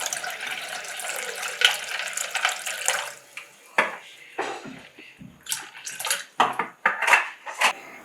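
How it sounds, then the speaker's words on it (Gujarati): Half a litre of cold water poured into raw mango sharbat over syrup, with a rushing pour at first, then splashes and clinks of a container and spoon in short bursts. "અડધો લીટર આપણે ઠંડુ પાણી નાખીશું"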